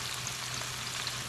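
Chopped scallions sizzle in a hot pan of oil while squash is fried, giving a steady, close hiss with no talking.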